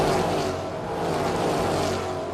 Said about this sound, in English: Nice baller titanium exhaust just to enhance that V8 growl